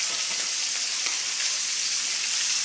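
Shrimp sizzling in hot oil in a pan, a loud, dense, continuous frying hiss that holds steady from start to finish with no talking.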